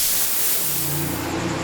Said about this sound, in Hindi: कुकर में से सारी गैस खारिज कर देंगे।